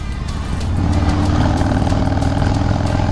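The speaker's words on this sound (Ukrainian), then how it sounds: "Трушний кайфовий вихлоп." A Harley-Davidson Low Rider S 114 cruiser's engine rumbles loudly and steadily at close range, a deep throbbing exhaust idling without pause.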